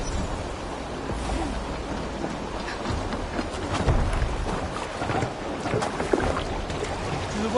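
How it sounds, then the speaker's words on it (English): A steady roar of ocean waves and gusting wind in Assassin's Creed Valhalla, heard as a continuous, loud wash with occasional creaks and splashes from a boat on the water. "Waves!"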